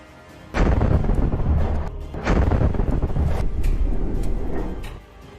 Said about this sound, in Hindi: जैसे ही ये टैंक बारूद वाली जगह पर आते हैं वैसे ही वहां पर एक जोरदार ब्लास्ट होता है